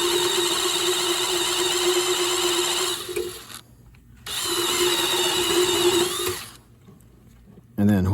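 A power drill runs steadily as it bores into a part of a 2014 GMC Acadia during wheel speed sensor work, two sustained whining bursts close to the microphone separated by a short pause, ending with a brief thump.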